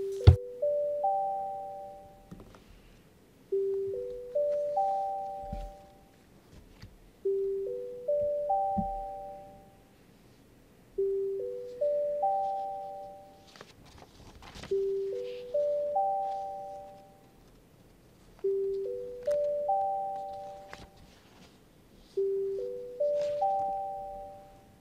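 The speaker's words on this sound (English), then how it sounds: "The bell will ring for 5 minutes." In a council chamber, a division bell chimes a repeating ascending four-note pattern roughly every three seconds, loud and clean with soft decays, as the bell rings for a division vote, with no talking.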